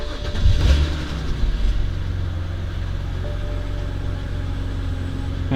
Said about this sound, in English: so I'm going to start the car up